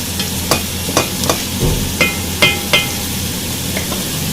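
Green chillies stirred into a simmering Punjabi chicken gravy, a spoon scraping the pan in a steady rhythm of sharp clicks over a soft continuous sizzle, close and fairly loud, with no talking.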